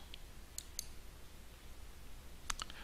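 Sharp mouse clicks on a Save and Return to Course button, a pair of quick taps early on and another close pair near the end, crisp and near against a quiet background hum.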